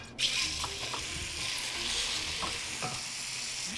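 Eggs sizzle loudly in a very hot oiled skillet while a utensil breaks them up, a constant close frying hiss punctuated by scattered scraping taps throughout.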